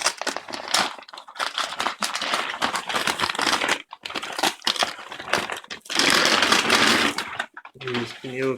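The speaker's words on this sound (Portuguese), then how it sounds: "Precisa dar uma faca aí para cortar" Knife slicing through the plastic wrap on a new Levorin 140/70/17 motorcycle tyre, a close crinkling, tearing rustle in bursts with brief pauses, a speaking voice in the background.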